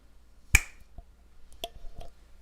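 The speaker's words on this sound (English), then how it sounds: "when you hear me say deep sleep and snap my fingers" A hypnotist snaps his fingers once, a crisp, loud, close snap followed by a few faint small clicks and rustles in an otherwise quiet room.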